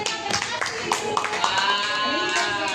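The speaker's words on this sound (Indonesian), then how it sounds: "Tepuk tangan buat dia" Scattered hand claps from a classroom of students applauding a classmate, close and uneven, mixed with voices talking over them.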